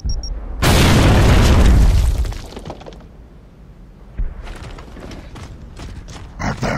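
A frag grenade detonating in Gears of War 2 Horde combat, a sudden, loud, deep boom with a shattering burst that rolls off over a couple of seconds, followed by scattered clanks and debris.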